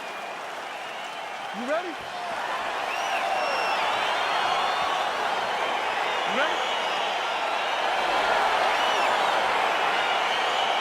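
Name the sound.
arena crowd cheering in video game EA Sports UFC 4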